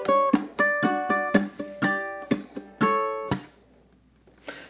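Ukulele strumming a chord pattern from a Motown song: a run of crisp, bright strums in uneven rhythm, several quick strokes then a held chord that rings out and fades, close and alone.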